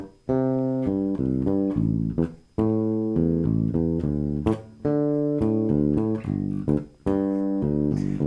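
Bass line played over a chord progression with root, fifth and octave notes, the pattern adding an extra eighth note at the end of each bar; low, clear plucked notes in a steady rhythm with no talking.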